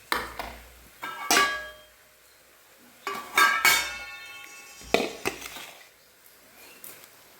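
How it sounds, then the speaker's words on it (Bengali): Metal plates clank and clink on a kitchen surface in bursts while food offerings are arranged, a few sharp ringing knocks with brief pauses between, close and fairly loud. "এই থালাগুলোতে ভোগ সাজিয়ে দেবো।"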